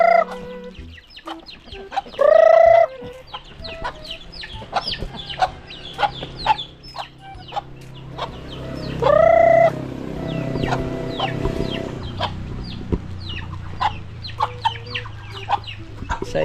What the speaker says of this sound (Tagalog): So ayan mga manok natin mga kabungot, 3 piraso ito